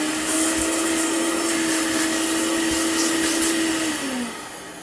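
A Vax ONEPWR Spotless Go cordless vacuum runs with a loud, steady motor whine at close range and no talk, its pitch dipping slightly as it winds down at the end.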